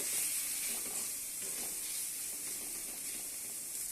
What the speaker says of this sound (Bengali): মশলাটা দেওয়ার পরে একটু কষিয়ে নেব